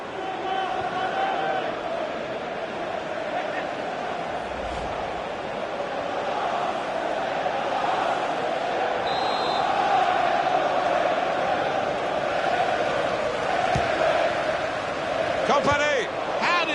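A stadium crowd in a FIFA 15 Premier League match between Liverpool and Manchester City keeps up a broad, steady roar that swells slightly at times, running under continuous commentary.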